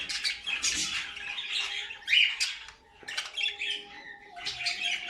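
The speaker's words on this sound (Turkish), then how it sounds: "şu an dişi yuvada erkek de kur yapıyor" A male bird courting a female at the nest in an indoor breeding cage gives repeated squawks and chirpy calls in bursts, near and moderately loud, over a faint steady hum.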